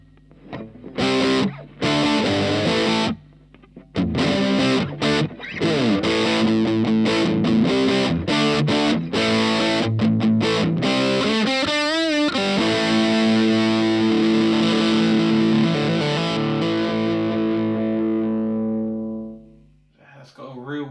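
Electric guitar played through a Danelectro FAB distortion pedal, loud and close, giving sustained fuzzy, gritty chords and notes with short gaps early on, ringing out before fading near the end.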